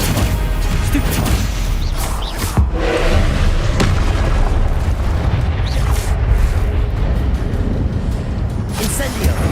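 Rapid spell blasts and booming magical impacts from combat in Hogwarts Legacy fill the clip, with dense, continuous bursts and crashes and a few sharper hits.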